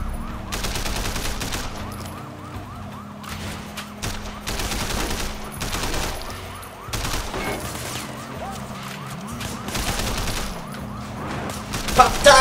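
Sustained bursts of gunfire in the video game Sleeping Dogs, dense and continuous over engine and siren-like tones, loud and close throughout with a final sharp shot at the end.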